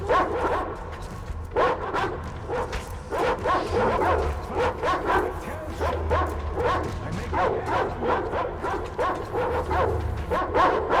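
Dogs bark in the video game Metro Exodus, a loud flurry of repeated barks, yips and whimpers in quick rhythmic bursts close by, with occasional speech underneath.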